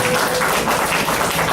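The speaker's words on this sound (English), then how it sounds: "Let's give our parents a big round of applause for all their support." Parents at a school district board meeting receive a brief, loud burst of clapping from the room, dense and continuous over its short length with no talk.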